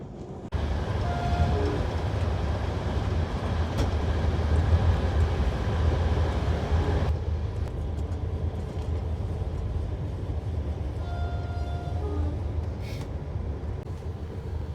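A sleeper train rumbles steadily nearby while its long warning horn sounds twice near a road crossing, each blast sustained for a couple of seconds over the rolling noise.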